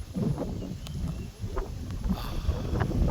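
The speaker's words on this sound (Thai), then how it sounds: "ฟังเสียงลมเอาก็แล้วกัน" Strong wind buffets a mountain cliff viewpoint at Pha Hua Nak in Chaiyaphum, Thailand, with fog rolling in; a steady, loud rushing roar with microphone buffeting runs continuously throughout.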